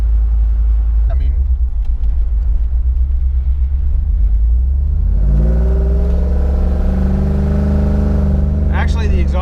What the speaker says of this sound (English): actually the exhaust is louder than the supercharger.